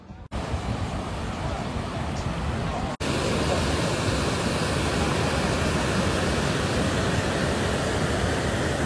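A waterfall near Ooty in Tamil Nadu gives a steady, close, full-bodied rush of falling water that fills the whole stretch, with two brief dropouts early on.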